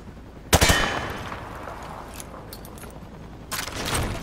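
Gunfire in the Call of Duty: Modern Warfare 2 training range as bullets punch through thin cover, with a sharp rapid burst at the start, fainter scattered shots in the middle and another burst near the end.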